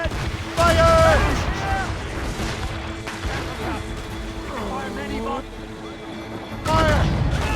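Ship cannons boom during a naval battle in Assassin's Creed Rogue, with heavy blasts near the start and near the end over rumbling battle noise, while crew voices shout throughout.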